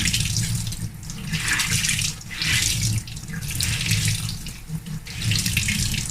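Tap water runs steadily into a sink, splashing and gurgling as makeup brushes and sponges are rinsed under it, close and fairly loud, with no talking.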